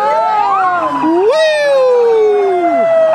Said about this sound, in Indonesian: Ini sirine awal.